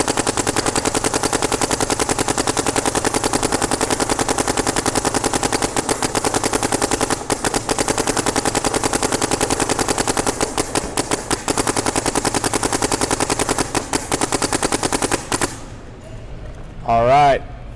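A Planet Eclipse GTEK 160R paintball marker fires indoors in a long, rapid, unbroken string of sharp pops for about fifteen seconds. It stops abruptly and a short spoken phrase follows.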